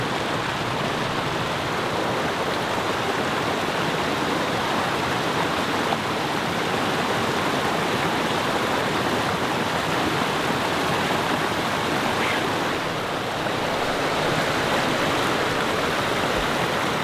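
Creek water flows steadily and close by in a broadband rush, constant throughout with no speech over it.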